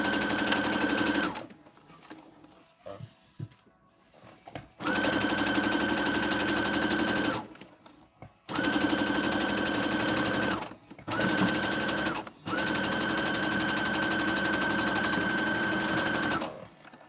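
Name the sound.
sewing machine stitching a Christmas stocking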